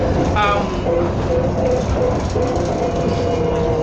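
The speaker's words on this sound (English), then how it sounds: "this is the tram, and it's almost," Tram rolling along its rails through a nearly empty city during the coronavirus lockdown, a steady close interior rumble with faint clacks and a brief squeal, continuous throughout with no talking.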